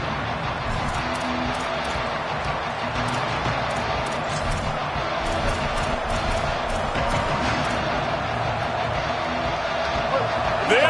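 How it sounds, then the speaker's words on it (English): A dense, steady stadium crowd roar from a College Football 27 game fills the whole stretch, loud and continuous with no breaks, a full-throated wall of noise. "This crowd, full throat, splitting the eardrums"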